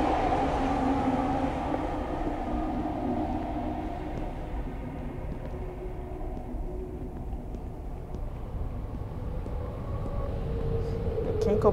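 In the video game The Mosaic, a train passes with a continuous low rumble and rattling wagons, holding steady for several seconds before thinning out.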